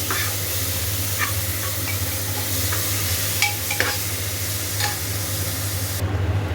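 Tomatoes and salt frying in a pan for a chicken curry while being stirred: a steady, close sizzle runs throughout, broken by scattered scraping strokes from the spoon, with no talking.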